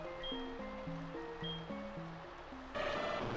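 A large waterfall in the Pokémon SoulSilver video game gives a steady broadband rushing wash behind chiptune background music, and the roar swells louder near the end.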